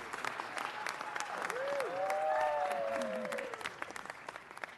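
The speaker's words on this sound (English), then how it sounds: "Please give Dr. J a round of applause." Audience applause rises at a city council meeting, a steady wash of clapping from a seated crowd lasting several seconds, with a few higher voice-like tones sliding over it.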